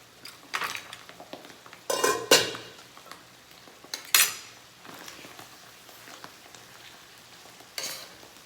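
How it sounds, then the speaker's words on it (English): Grilled chicken simmers in mushroom cream sauce in a Saladmaster pan, giving a soft sizzle broken by a few sharp utensil scrapes and stirs against the metal. "And now it's cooking for a little bit in the sauce."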